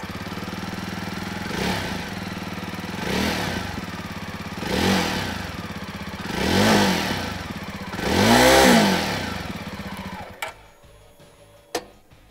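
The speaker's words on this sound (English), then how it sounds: "let's listen to the exhaust sounds of these motorcycles" Jawa 42 Bobber motorcycle exhaust revved five times in rising, evenly spaced bursts over a steady thumping idle, each rev louder than the last, then cut off with a couple of sharp clicks.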